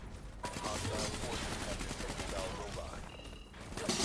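Rapid automatic gunfire from the KN-44 assault rifle in Black Ops 3, a dense, continuous burst of loud, close shots running the whole stretch with a brief lull near the end.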